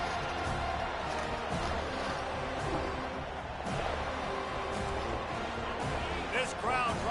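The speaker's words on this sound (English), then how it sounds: "This crowd trying to make life miserable for this offense." A stadium crowd in the NCAA 25 college football video game roars as a steady wash of noise beneath a commentator's continuous play-by-play.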